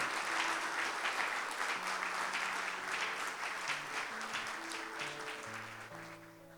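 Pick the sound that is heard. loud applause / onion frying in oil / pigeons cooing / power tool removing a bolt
loud applause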